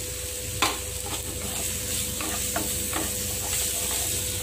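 Flattened rice (aval) sizzles and rustles steadily in a hot pan as it is roasted and stirred, with occasional sharp scraping taps of the spoon against the pan, close and continuous.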